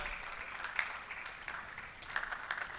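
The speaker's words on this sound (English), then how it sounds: "Keep clapping." Applause from a conference audience at a national annual gathering, a soft, sustained patter of many hands heard from a distance, fairly faint, with a few sharper claps standing out now and then.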